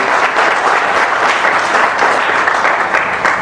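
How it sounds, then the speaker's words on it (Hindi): An audience claps in welcome, loud, dense applause from many hands that runs steadily without a break. "जरा ताली बजा के स्वागत करेंगे"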